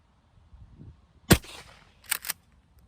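A Rio Royal 20 gauge shotgun loaded with No. 1 buckshot fires over a chronograph: one sharp, loud blast with a short decay, then a fainter double clatter, likely the pump action cycling.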